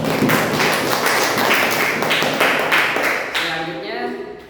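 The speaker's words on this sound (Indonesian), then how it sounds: "Beri aplaus terlebih dahulu untuk kelompok." Classroom applause for a student discussion group at an Indonesian junior high school, dense steady clapping from many hands that fades out near the end, with a voice briefly audible as it dies down.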